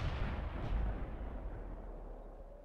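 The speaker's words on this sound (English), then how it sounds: "So I shoot there, get another one into the back of him, 90 damage." A tank cannon fires in the World of Tanks video game, one deep booming shot that rumbles loud and then fades away over a couple of seconds, with no voice.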